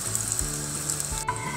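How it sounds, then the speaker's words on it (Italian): Breaded aubergine parmigiana meatballs deep fry in plenty of seed oil, with a steady close sizzle and crackle plus a few brief stirring clinks. "Andiamo a friggere in abbondante olio di semi o di girasole e d'arachidi."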